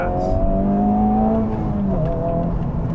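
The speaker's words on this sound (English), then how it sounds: "the intake noise when you put your foot down does sound good" A 2023 Honda Civic Type R accelerating hard, its engine and intake note rising steadily in pitch with a brief dip near the middle, loud and close with no talking.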